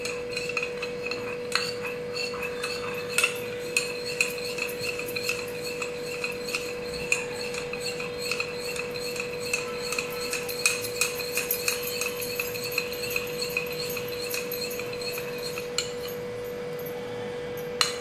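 A spoon stirs an aloe vera gel hair-pack mixture in a bowl, giving sparse, light taps and clinks against the sides, spaced irregularly over a steady background hum.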